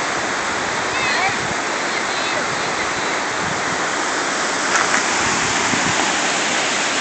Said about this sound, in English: Waterfall now.